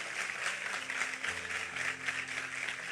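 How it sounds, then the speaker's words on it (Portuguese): Steady applause from a church congregation during a Wednesday service, a dense wash of clapping with a low sustained hum underneath, continuing without a break. "Vamos aplaudir a Ele"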